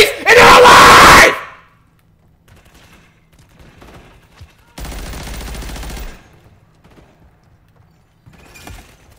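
Video game combat with loud bursts of rapid gunfire and grenade explosions, a dense opening volley, quieter scattered shots, then another sustained burst; a voice shouts over the action.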